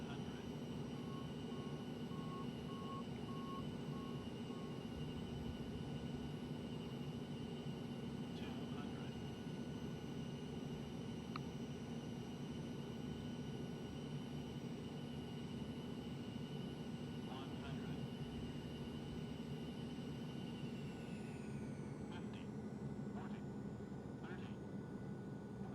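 An Eclipse 550 business jet in the X-Plane 11 flight simulator holds a steady engine drone with a constant whine throughout, and the tone shifts near the end. A few faint clicks sit underneath.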